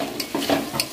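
Potatoes sauté in a pan while being stirred, a brief close scrape or two over a soft sizzle.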